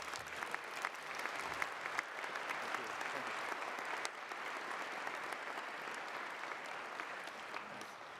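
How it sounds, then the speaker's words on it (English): An audience at Olin's December 2021 graduation recognition ceremony applauds an award presentation, with steady, dense clapping from a large crowd that holds throughout without a break. "Let's give him a round of applause,"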